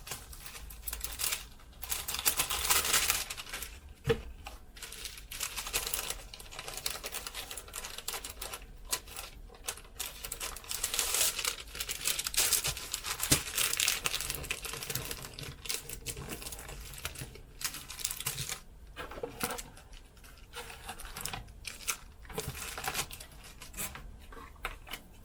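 Plastic sleeves crinkle and rustle in bursts as orders are handled and slipped inside, a close, continuous crackling texture with brief pauses.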